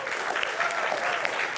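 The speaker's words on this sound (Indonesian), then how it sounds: "Tepuk tangan dulu." An indoor audience at an Indonesian legal press event or gathering breaks into steady applause, a dense continuous patter of clapping heard moderately close with no talk over it.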